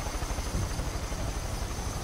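A machine-gun-armed helicopter in the video game Far Cry 5, its steady low rotor thrum and engine drone pulsing evenly and continuously throughout, close and fairly loud, with no talk.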